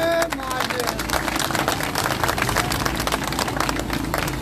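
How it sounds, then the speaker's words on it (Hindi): Crowd clapping steadily at the opening of an MQM Pakistan election office in Surjani Town, Karachi, dense and sustained applause with voices mixed in throughout. "आइए भाई जरा तालियां बजाएंगे।"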